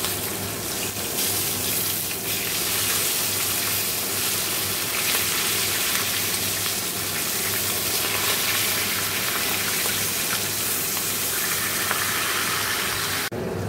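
Fish heads frying in hot oil in a home kitchen, a steady dense sizzle and crackle running unbroken and fairly close throughout, with no talking.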